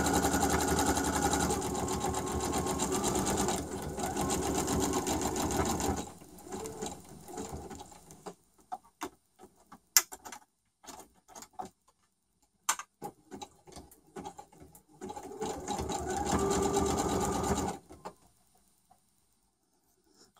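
A sewing machine runs in two long continuous bursts of stitching, zigzag and then overlock, with a choppy pause of short mechanical clicks and taps between them, close and fairly loud.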